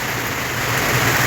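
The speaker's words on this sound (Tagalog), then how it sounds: "Grabe ang ulan." Heavy rain pours down in a dense, loud, unbroken wash of noise with no pauses.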